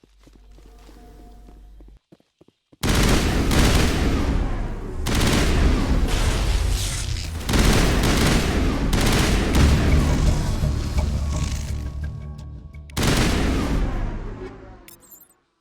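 Gunfire in Mass Effect, on Noveria, erupts after a quiet opening as loud, dense sustained bursts with brief pauses between volleys, close and overwhelming.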